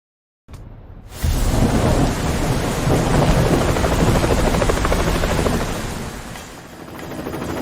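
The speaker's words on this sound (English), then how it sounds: "Hey, the helicopter's ready." A helicopter in the Ninja Gaiden 3 video game, a loud close roar that starts with a sudden burst and holds as a dense, rumbling wash with thudding rotor texture before easing slightly.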